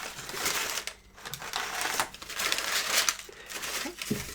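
Paper crinkles and rustles while a homemade trading card game box is unboxed, with close crumpling bursts and a few soft taps over about four seconds.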